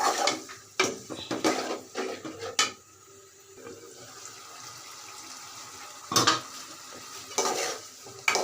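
Potatoes and flat beans stir-fried with shrimp in a pan, a spatula scraping and clattering in bursts of stirring over a soft background sizzle, with quieter pauses between.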